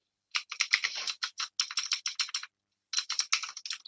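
Rapid keystrokes on a computer keyboard clatter in dense bursts, close and crisp, with a brief pause before typing resumes.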